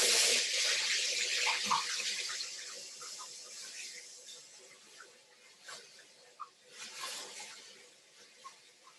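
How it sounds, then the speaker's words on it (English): Tap water runs into a sink during handwashing in a kitchen while cooking gnocchi, a steady broadband rush that starts strong and fades to a softer trickle with a few small splashes and clinks. "I'm going to wash my hands"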